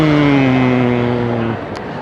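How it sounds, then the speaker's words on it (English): A car passes along a street in Covent Garden, London, its engine droning loud and close for about a second and a half before fading quickly, leaving general street ambience. "There's a car about to go past."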